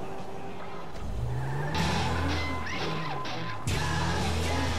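An Audi-like car driven in the GTA V video game on PS3, a steady engine drone with rising revs and squealing tires as it skids, loud and close.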